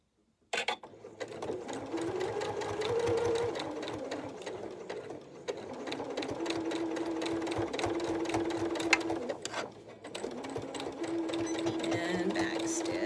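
Sewing machine stitching a gusset onto a tank top, a continuous fast mechanical whirring hum running in several long bursts with brief pauses between, close and clear.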